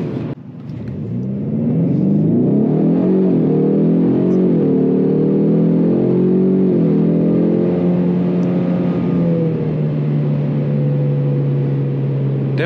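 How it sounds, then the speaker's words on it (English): A car engine climbs quickly and then holds at high revs while driving, a loud sustained droning whine that sags slightly in pitch near the end. "Definitely holding the high revs."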